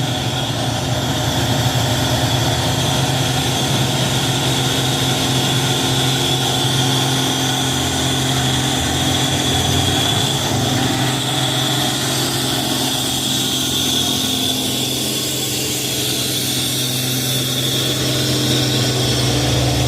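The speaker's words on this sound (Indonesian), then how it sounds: "Ditarik truk trailer sama trailer ya" A Hino truck's engine runs steadily with a low, continuous drone while towing another trailer truck, loud and close with no pauses.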